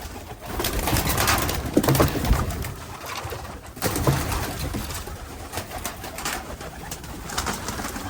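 Pigeons coo steadily inside a pigeon loft, a continuous layered murmur of several birds close by, with occasional louder coos and soft rustling throughout.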